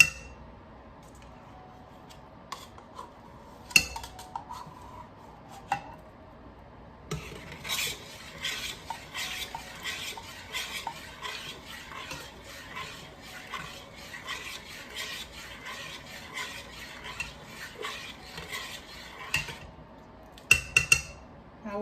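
A spoon scrapes and stirs sweetened condensed milk into a pot of Jamaican-style hominy corn porridge, a steady run of rhythmic scraping strokes against the metal with a few louder clinks near the start and end.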